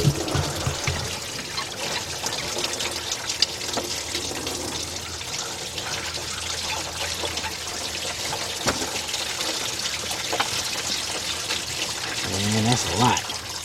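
Coolant drains from a 2006 Chevy Silverado C1500 into a pan, a quiet continuous trickle and pour that runs steadily throughout.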